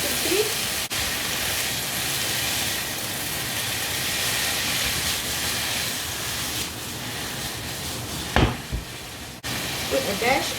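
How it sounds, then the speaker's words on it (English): Beansprouts and taukwa sizzling in a wok while being stir-fried, a steady dense hiss throughout with brief clanks of a utensil near the end. "So you see, we have to lightly fry it"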